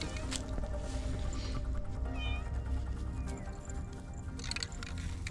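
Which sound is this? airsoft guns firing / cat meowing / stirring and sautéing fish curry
cat meowing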